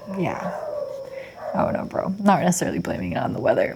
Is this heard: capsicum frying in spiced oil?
no